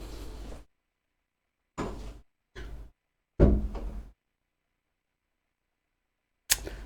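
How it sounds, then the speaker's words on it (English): A door closes in a home music studio: a few brief rustling, thumping bursts give way to a sharp, close slam at the end, with silence between and no talking. "So let me just close this door."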